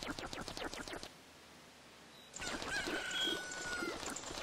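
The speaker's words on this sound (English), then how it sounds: "I already hear a chicken." A chicken in the Zelda: Majora's Mask video game gives a short burst of clucking and crowing, faint and tinny among game ambience, with a quiet gap before the noise picks up again.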